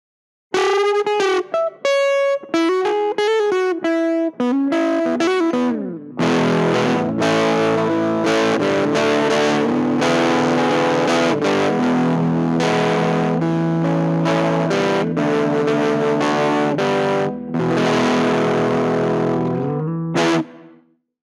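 Electric guitar played through a small DIY mini amplifier built from Amazon parts, loud and distorted, with picked notes at first and then sustained heavy chords for about twenty seconds, with no talking.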